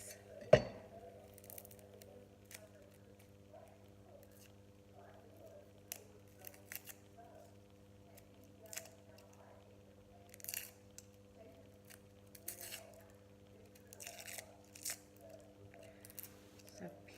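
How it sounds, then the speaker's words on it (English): Shallots being peeled and chopped, heard as scattered faint knife cuts and small rustles at irregular intervals over a steady low hum. "so peel and chop 2 shallots"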